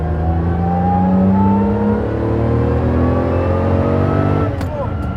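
A roughly fifty-year-old, low-mileage Lamborghini sports car engine drones steadily up close, its pitch slowly rising as it revs.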